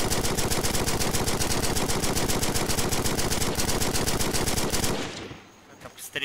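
An armoured vehicle in a video game fires a long, rapid machine-gun burst, loud and evenly spaced shots for about five seconds before cutting off into quieter ambient noise.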